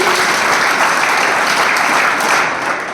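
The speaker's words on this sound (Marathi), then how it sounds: "दोनात टाळ्या वाजवायच्या" Loud, dense applause from a workshop audience of police, sustained clapping that fills the whole stretch and tapers slightly at the end.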